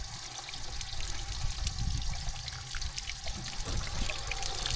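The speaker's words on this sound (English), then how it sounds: "A little bit of water coming out of here." Water trickles and dribbles steadily out of a pipe fed from a heater, a continuous close, moderately quiet pouring flow with no voices.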